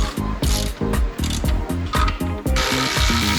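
Fast clicking ratchet snugging bolts on a Collins transmission adapter plate joining a Honda K24 engine to a Nissan transmission, several quick bursts of rhythmic pawl clicks with brief pauses, loud and close with no talk.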